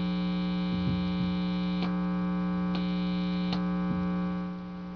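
Single-coil guitar pickup on a Tele through a high-gain Rivera amp, a steady low mains buzz with a few faint ticks and pops as the guitar is handled, fading slightly at the end, no playing or talk.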